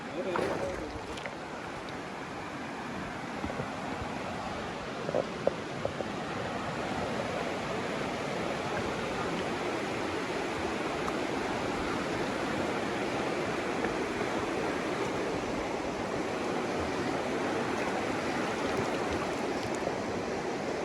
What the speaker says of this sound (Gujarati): ખડખડ વહેતા મા ગંગાના પાણી